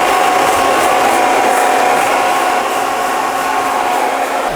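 A hair dryer runs on low speed with high heat in a barbershop, giving a steady, loud whooshing hum with a faint rattling whine that stays constant throughout, with no voices.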